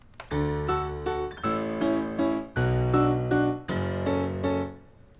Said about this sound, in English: Pretty basic and nothing applied to it, just a stock Ableton piano.